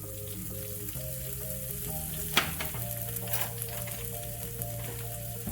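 Garlic frying in a teaspoon of vegetable oil in a pan for Korean japchae, a soft, even sizzle with one sharp clink partway through, over sustained background music.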